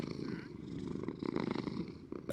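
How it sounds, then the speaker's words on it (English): Several fed cats purring steadily up close, a continuous low rumbling throb with no talk over it. "Listen to the beautiful, beautiful ASMR purrs"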